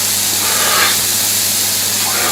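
Garlic sizzling in oil on a hot plancha gives a loud, steady hiss with a constant spattering texture and no break.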